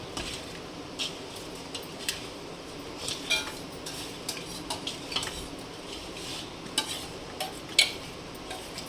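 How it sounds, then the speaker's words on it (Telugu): Spice powders being stirred in a bowl for a drumstick pickle, with soft, irregular scraping and light clinks of a spoon repeating steadily at low volume and no voices. "ఇప్పుడు దీన్ని మనం నీట్గా కలుపుకోవాలి"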